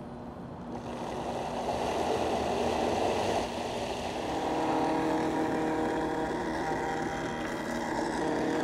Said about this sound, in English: So we're gonna throw this on the Vitamix and just blitz it until it's super smooth.